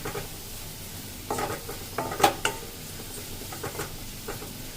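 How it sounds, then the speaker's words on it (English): Garlic and green chili sauté lightly in oil with a soft, steady sizzle, broken by a few quick scrapes and clinks of a utensil against the pan. Close and moderately loud. "garlic and green chili in the oil and I'll saute it lightly"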